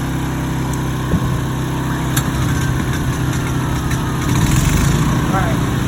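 A small engine runs steadily close by after its choke is set, a continuous loud idling drone with a couple of brief clicks and a slight surge near the end.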